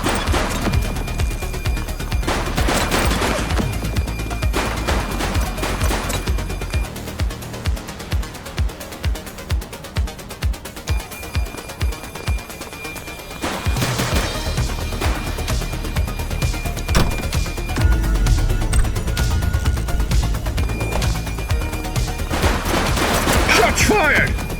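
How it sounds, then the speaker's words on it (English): Police shootout after a bank robbery in the video game The Precinct, with dense bursts of gunfire, a stretch of rapid rhythmic shots and crashing impacts, loud and continuous. "police are engaged in a fierce shootout following yet another bank robbery"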